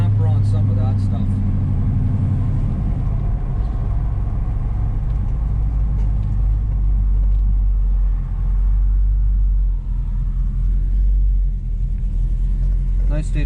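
Steady low engine rumble from a 1968 Chevelle cruising on a sunny day, loud and continuous throughout, with people talking over it.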